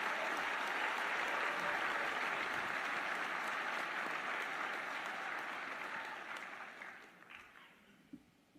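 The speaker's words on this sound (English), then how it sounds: "continue that round of applause for the 2023 MEAC Offensive and Defensive Players of the Year" Sustained applause from a large crowd at a college football awards dinner fills the room, loud and even for several seconds before tapering off into scattered claps.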